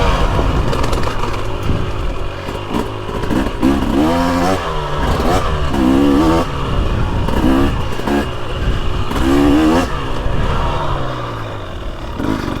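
A 2023 Husqvarna TX300 Heritage two-stroke dirt bike with WP Pro Components cone valve forks revs and accelerates while riding, its engine rising and falling in repeated loud bursts up close with clattering over rough ground, no talk.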